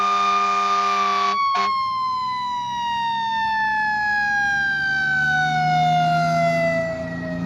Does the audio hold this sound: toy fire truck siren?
yes